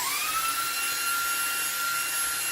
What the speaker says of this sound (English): let's see if we can get most of this off with this vac here from Anker